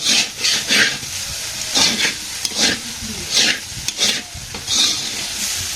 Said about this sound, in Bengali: আলু ভাজি রান্না করতেছি